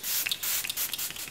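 Peach and Lily Glass Skin Veil Mist is sprayed onto the face in a few quick, close hissing bursts, separated by soft rubbing, with no speech.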